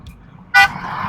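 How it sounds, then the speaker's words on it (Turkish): A short, loud car horn honk with a bright harmonic tone, cutting in sharply over low traffic rumble, followed by steady road noise. "hem üstüme sürüp hem de bana korna niye çalıyor?"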